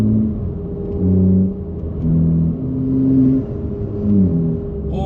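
A BMW G80 M3 sports car's exhaust revs loudly in repeated bursts, deep throaty rises and falls close by, with no talking.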